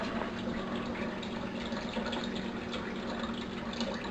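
Filtered water pouring into a Vitamix blender, a continuous gushing, splashing fill sound at moderate level, with no speech over it.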